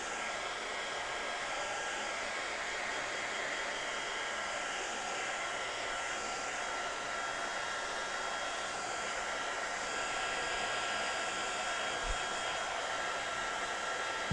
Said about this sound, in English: Now, dry, dry, dry. Electro dry.